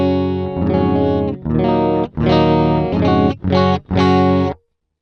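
Electric guitar played clean through a Boss GT-1000 Core multi-effects unit, with a handful of sustained strummed chords and short breaks between them, loud and close with no talking.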